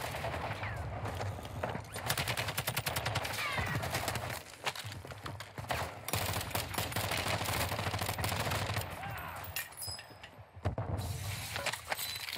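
Rapid automatic gunfire from a P90-class PDSW 528 submachine gun in the video game Warzone on Ashika Island: long dense bursts of shots, loud and sustained, with short gaps and faint in-game clatter.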